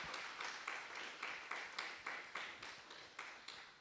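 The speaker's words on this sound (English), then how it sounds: "A big round of applause to our jury members today." Applause from an audience honoring jury members at a Solar Decathlon India finals event, a steady wash of many hands clapping with rhythmic surges roughly every half second, moderately loud and without talk.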